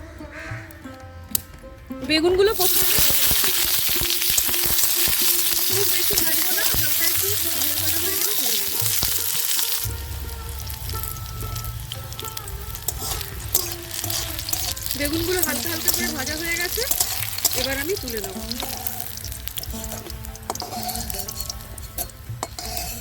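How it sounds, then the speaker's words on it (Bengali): Mustard oil sizzling in a hot wok, a loud steady hiss with scraping and stirring against the pan, while a voice talks over it for much of the time. "কড়াই গরম হয়ে গেছে এতে আমি সর্ষের তেল দিয়ে দিচ্ছি"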